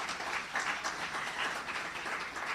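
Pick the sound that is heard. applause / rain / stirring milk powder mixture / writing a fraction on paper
applause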